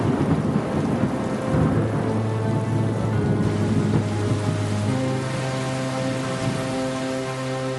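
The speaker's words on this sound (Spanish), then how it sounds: "la lluvia no cesa" Heavy rain pours down steadily in Villahermosa, Tabasco, Mexico, during severe flooding, a dense, unbroken roar with a low rumble of thunder beneath and no voices.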